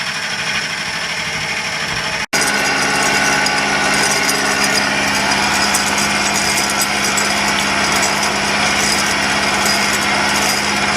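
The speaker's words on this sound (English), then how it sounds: "that's a 50 thousandths cut with a 1-inch end mill. We're just melting the aluminum off of there." A small milling machine drives a 1-inch end mill through an aluminum block, taking a 0.050-inch cut. The cutting noise is loud, steady and high-pitched, with a brief break near the start before it resumes and runs on without talk.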